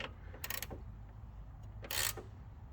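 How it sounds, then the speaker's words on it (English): A bolt on a Mazda 323 GTX custom adjustable trailing arm being tightened with a 14mm box end wrench, giving two short, quiet metallic ratcheting bursts close by with no talk. "14mm box end wrench"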